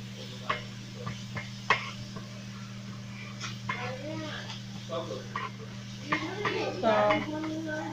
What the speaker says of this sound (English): And then I'll just stir them up.